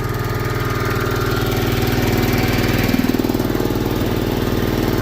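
A Case garden tractor engine running on brown gas with a broken carburetor chugs in a steady, loud, rapid knocking rhythm, close up and unbroken throughout.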